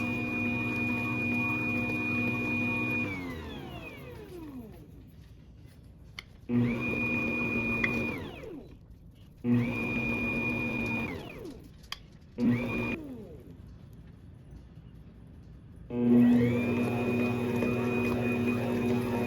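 A stand mixer motor beats bread dough as freshly milled flour is added, humming steadily, winding down, then restarting in several short bursts before running on again.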